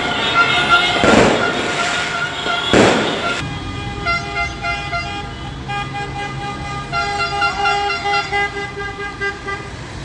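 Fireworks and car horns sound at a street celebration in Torre del Greco after Italy's Euro victory: two loud bursts of crackling blasts early on, then sustained tooting horns and crowd noise with voices throughout.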